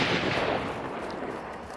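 Gunfire in Soul Survivor, a video game, loud and dense as a continuous burst of shots and blasts that runs the whole moment without a clear break.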